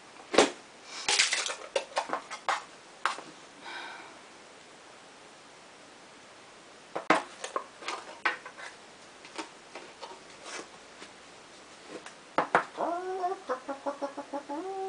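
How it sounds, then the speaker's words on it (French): Chickens in a henhouse give scattered sharp clucks and pecking taps, quiet gaps in between, then a burst of rising clucks and calls near the end, close and fairly faint. "On est dans le poulailler, là."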